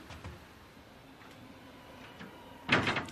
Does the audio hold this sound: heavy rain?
no